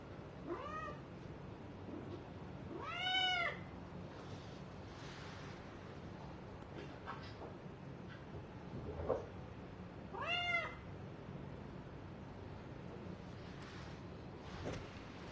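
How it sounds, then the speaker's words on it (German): Indoors at home during a storm, a cat lets out several separate, drawn-out meows spaced several seconds apart over a faint steady background hiss. "komm mal her, du kleine, süße Katze"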